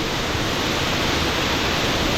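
Waterfall pouring inside a cave near the bottom of a 12-metre shaft, a dense, unbroken roar of falling water, loud and close for a couple of seconds.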